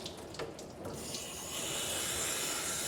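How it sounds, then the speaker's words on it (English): A gentle, light stream of water runs while a small dog is bathed at home, a soft, steady close hiss that grows slightly fuller after a few faint splashes, with no voices. "really light, gentle stream of water"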